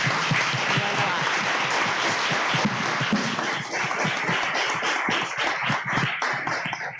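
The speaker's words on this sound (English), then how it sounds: "Please, let's give another round of applause for our panelists" A panel audience at a community dialogue on refugees in Canada breaks into sustained, dense applause that fades slightly toward the end, the clapping loud and close.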